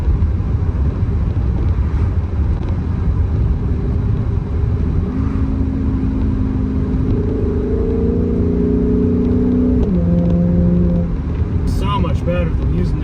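A Dodge Charger engine revs steadily under heavy road noise, its note climbing in steps and then dropping as paddle shifters change gears.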